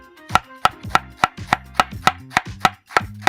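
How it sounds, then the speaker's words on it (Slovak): Iceberg lettuce being sliced into thin strips on a cutting board: about a dozen crisp, evenly spaced knife chops in quick rhythm, close and clear with no talking. "Ja tu mám takýto ľadový a nakrájame si na také menšie prúžky."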